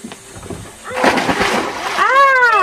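Someone plunges into lake water on a summer holiday in Switzerland, a broad splash and slosh surging up and lingering, with a voice talking over it.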